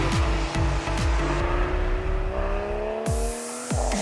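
A fast car driven hard around a race track, its engine roaring close and loud, revving up repeatedly with sharp drops at each gear change.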